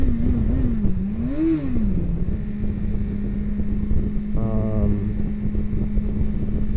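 A BMW S1000XR sport motorcycle engine rises and falls in pitch as it revs, then settles into a steady loud drone with a brief rattling burst.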